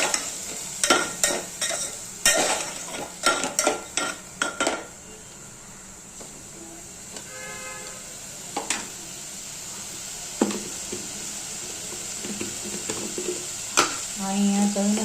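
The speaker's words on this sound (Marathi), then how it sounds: "त्याच्यामध्ये हे टाकूया आपण मूग आणि याच्यामध्ये मूग चांगलं फ्राय करून घ्यायचं" Moong beans and green chillies frying in a pan, with repeated scraping stirs and clinks of a spoon against metal over a steady sizzle, close and fairly loud, no talking.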